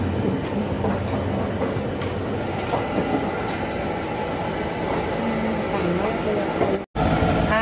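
Steady rumble and rattle of a KiHa 183 diesel train from Japan running along the tracks, heard from inside, with a brief dropout near the end.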